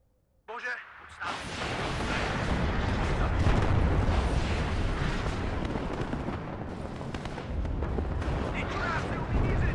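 Gvozdika self-propelled artillery fires in the WARNO war strategy game. The roar starts suddenly and becomes a loud, sustained rumble of booming artillery and blasts that lasts throughout.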